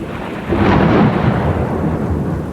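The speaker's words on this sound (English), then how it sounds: "There was a flash of lightning, followed shortly by a mighty clap of thunder." A single mighty thunderclap rolls in during a storm with steady rain, swelling loud after a brief pause and then rumbling on without fading.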